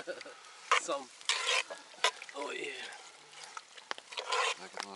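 A spoon stirs game stewed in birch sap in a pot at an outdoor field kitchen, giving scraping swishes and soft sizzling in several bursts, with quiet voices between.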